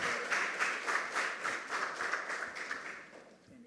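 An audience at a junior high school quiz competition gives a student a round of applause, steady clapping with a regular pulsing rhythm that carries on for several seconds before tapering off.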